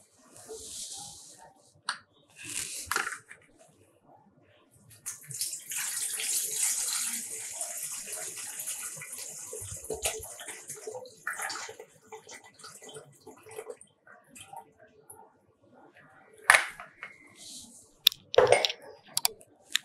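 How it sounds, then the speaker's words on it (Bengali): Water is poured into a cooking pot for steaming bhapa pitha, a loud gushing splash lasting several seconds, then quieter trickles, clinks and handling noises. "এখন আমি এখানে পানি দিয়ে দিব।"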